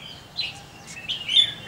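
Several short, bright bird chirps in quick succession, fairly close, over a quiet background.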